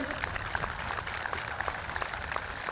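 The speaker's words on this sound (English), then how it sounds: "Can we give Sydney a round of applause for being our 4-H queen this year?" Audience applause at an outdoor high school graduation ceremony honoring the 4-H queen, a steady wash of many hands clapping with scattered sharper claps, moderately distant and continuous throughout.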